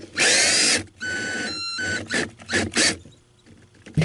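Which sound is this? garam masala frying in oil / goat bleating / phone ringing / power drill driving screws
power drill driving screws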